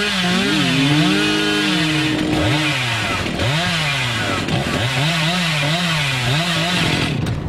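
Hillbilly's chainsaw revving continuously in the game Dead by Daylight, a loud, close motor drone that rises and falls in pitch through repeated surges, with no talk.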